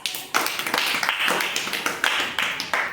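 Children in a classroom clap together in a rhythmic burst of about a dozen quick, sharp claps, fairly close and lively.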